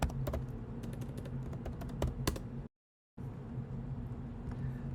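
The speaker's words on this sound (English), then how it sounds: "so I can type in location here" Someone types on a computer keyboard, a close and quick run of clicking keystrokes. A brief dead silence interrupts it midway before the tapping resumes over a low steady hum.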